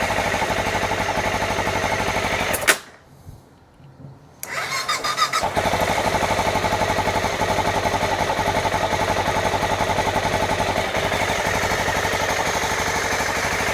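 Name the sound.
El Chapo Funduro minibike engine starting and idling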